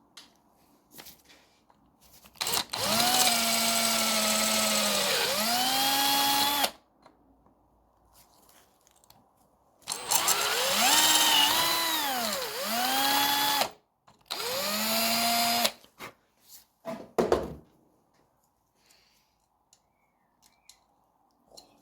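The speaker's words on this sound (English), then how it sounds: "I'm just going to drill these holes out a little tiny bit" A power drill whines in several bursts, its pitch dipping as the bit enlarges rivet holes in metal during clutch work on a 1964 Raleigh Runabout RM8 moped, separated by quiet pauses and a few clicks.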